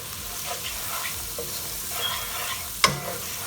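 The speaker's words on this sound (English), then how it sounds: "Just mix this properly." Saffron and turmeric being stirred into sizzling onions for seafood paella gives soft scraping and frying sounds, close and quiet, with one sharp clink near the end.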